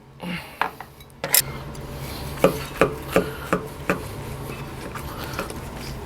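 A knife slices through smoked meat cooked on a Louisiana Grills Founders Legacy pellet grill, giving a string of close, sharp scraping and tapping strokes against a board. The strokes come in an uneven rhythm, with faint room noise between them.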